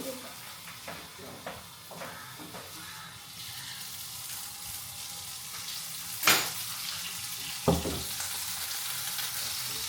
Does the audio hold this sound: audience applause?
no